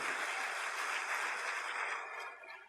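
A church congregation applauds during a service, a dense, steady wash of clapping that holds evenly and then tapers off toward the end.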